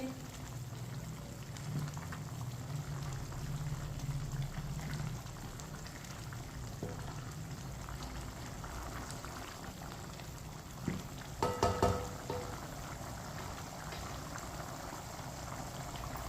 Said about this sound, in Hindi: पानी को अच्छी तरह उबाल आ चुका है।